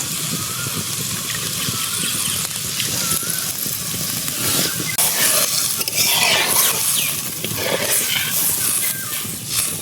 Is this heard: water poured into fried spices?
yes